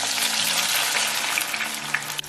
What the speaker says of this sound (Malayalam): എണ്ണ നന്നായി ചൂടായി കഴിയുമ്പോൾ സവോള അതിലേക്ക് ചേർത്ത് ഫ്രൈ ചെയ്തെടുക്കുക